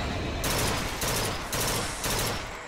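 Gunshots from a Bioshock Infinite weapon: roughly four heavy, evenly spaced bursts of fire, loud and close, each a broad crackling blast.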